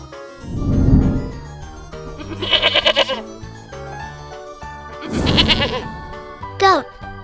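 A goat bleats loudly several times in close, wavering cries, with quieter pauses between calls and no talk over them.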